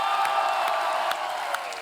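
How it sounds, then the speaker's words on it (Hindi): A studio audience on The Kapil Sharma Show comedy program applauds steadily to welcome guest Gurdas Maan, a dense wash of clapping at moderate volume with a few louder claps standing out. "आप सबकी जोरदार तालियों से स्वागत करना चाहूंगा"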